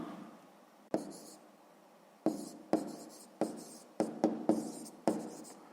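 Handwriting a math solution on paper, a series of quick scratchy pen strokes in irregular rhythm that bunch together toward the end, close and with no voices.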